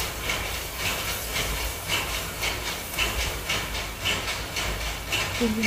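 Spice paste frying in oil in a pan for a khoira fish curry, a steady close sizzle and hiss with rhythmic pulses as it is stirred, no voices.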